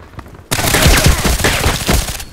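Loud, sustained automatic gunfire from a Contract Wars deathmatch bursts in after a half-second of near silence and rattles on rapidly for about two seconds before easing off.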